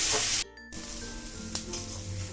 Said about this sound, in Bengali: উচ্ছেটা আমি একটু ভাজা ভাজা করে নিয়েছি